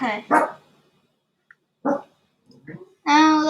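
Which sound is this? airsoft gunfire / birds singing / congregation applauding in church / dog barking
dog barking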